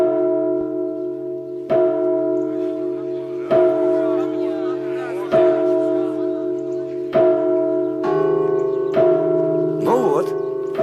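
A church bell is rung by a prince in an old Russian setting: loud, ringing strokes about every two seconds, each tone sustaining into the next, with no talking.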